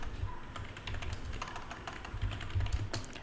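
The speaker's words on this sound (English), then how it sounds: "Now I'm gonna type the pip install" Typing on a computer keyboard at a steady pace, with dense soft clicks and taps close up, alone with no voices.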